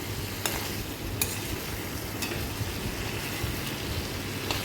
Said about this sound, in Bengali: অল্প নাড়াচাড়া করে এবার আমি এটা ঢেকে দেবো হয়ে গেছে আমার এটা কষানো